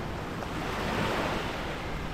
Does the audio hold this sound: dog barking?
no